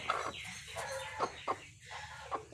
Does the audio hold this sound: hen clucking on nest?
yes